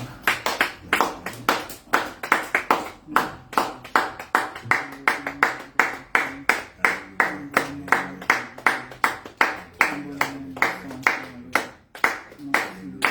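A church congregation claps in quick, steady rhythm during worship, loud and close, dozens of sharp hand claps with a faint sung or spoken tone underneath.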